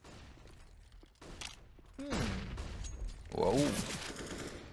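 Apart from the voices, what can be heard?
AUG rifle gunfire in video game CS:GO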